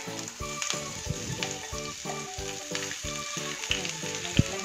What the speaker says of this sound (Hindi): ऑयल गरम हो गया है, अब हम इसमें चिलीज और अदरक और लहसुन ऐड कर लेते हैं।